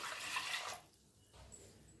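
Water is poured into a pressure cooker holding washed moong dal, a soft splashing pour for about three quarters of a second that then stops, leaving quiet room sound and a light knock.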